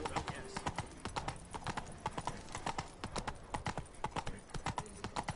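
Roach the horse trotting in The Witcher 3, hooves clip-clopping in a quick, even rhythm close by, with a voice speaking over the hoofbeats.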